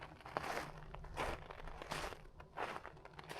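Boots crunch through deep, crisp snow on a winter trail in Alaska, about four or five slow, close footsteps with a dry crumpling texture and no talk.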